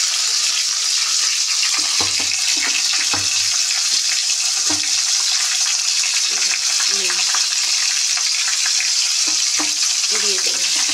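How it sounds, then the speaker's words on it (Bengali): Flat beans with turmeric fry in a hot pan, a loud continuous sizzle with occasional stirring scrapes and clatter, no one speaking. "শিমটা একটু ভেজে নেব।"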